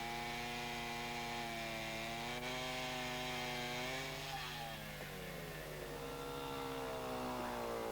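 A TS1 rail cutter drives its cutter disc through a steel rail with a loud, sustained motor whine whose pitch shifts and dips partway through as the disc bites into the metal.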